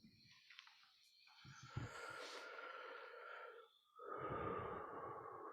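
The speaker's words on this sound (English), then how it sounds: "Just normal recovery breathing here for a moment." Slow, deep recovery breaths after a yoga breathing exercise, close and audible: a few quiet snorts, then long airy inhales and exhales separated by a brief pause.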